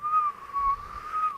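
A person whistles in three short, bright phrases with brief gaps between them, close and clear with nothing else heard, a voice imitating someone walking around a room whistling.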